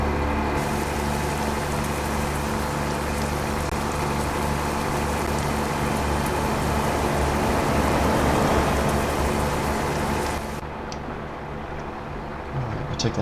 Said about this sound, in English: I hope you guys enjoyed those rain sounds